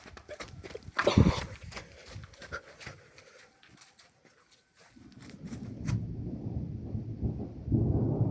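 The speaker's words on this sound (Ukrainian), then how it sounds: "Гроза капець яка сильна." Distant thunder rolls in a long low rumble, rising in the latter half after a burst of scattered clattering noise earlier.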